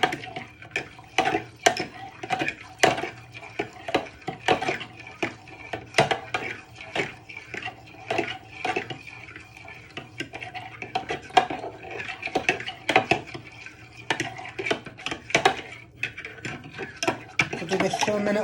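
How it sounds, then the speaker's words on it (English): A fork stirs a yeast mixture in a bowl for strawberry donut dough, giving a steady run of quick, bright metallic clinks and scrapes against the bowl, close and clear with no talking. "you're going to give this a good stir with the fork"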